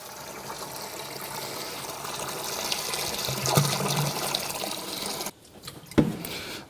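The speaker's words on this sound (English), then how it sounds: "When you tip the antifreeze in, try and tip it in without it sloshing in, so it goes in nice and gently." Antifreeze tipped gently into a Kensa ground source heat pump system during filling, a steady close pouring and trickling of liquid that runs for several seconds, then cuts off with a brief splash near the end.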